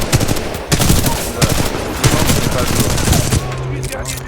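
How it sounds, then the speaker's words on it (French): Rapid bursts of automatic gunfire in the video game Titanfall 2, loud and close, with rhythmic shots rattling over other game sounds for several seconds before fading to a steady tone. "J'aime bien pouvoir faire la rafale quand on a envie."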